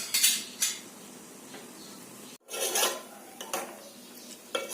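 Boiled ginger and giloy herbal drink strained from a cooking pot, giving bright metallic clinks and clatter of pot and strainer in short bursts, a brief silent gap midway, with no voices.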